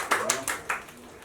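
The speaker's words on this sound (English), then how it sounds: "Please, make a round of applause, guys." Applause from a small audience at an evening jewellery pop-up event, a few loose bursts of clapping that thin out quickly, moderately loud with light room noise.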